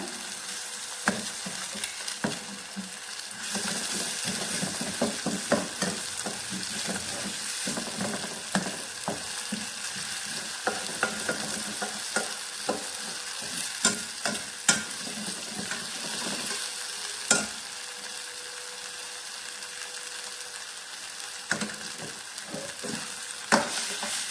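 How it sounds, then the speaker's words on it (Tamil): Beaten egg stirred in a frying pan while preparing Maggi noodles, a continuous sizzle under rapid, irregular spatula taps and scrapes, close and fairly loud throughout, with no one talking. "நல்லா மிக்ஸ் பண்ணிடுங்க முட்டையை"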